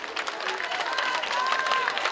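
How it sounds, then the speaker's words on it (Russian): Audience applause for the dance group Maximum at an outdoor summer stage in Bălți, a steady broadband patter of clapping with crowd noise, moderately loud and continuous throughout. "Ваши бурные аплодисменты, пожалуйста"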